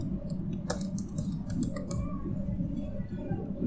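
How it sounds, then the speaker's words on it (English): Keys clicking steadily on a computer keyboard while text is entered into a WordPress site, a close, continuous patter of light taps with a few sharper strikes, alone with no talking. "As I'm typing add to basket"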